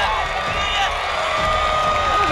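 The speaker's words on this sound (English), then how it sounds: "That'll get the Norse crowd rolling here at the Northern Kentucky University complex" A Northern Kentucky University soccer crowd roars and cheers after a goal in a men's exhibition match, a sustained loud wash of whoops and shouts with an announcer talking over it.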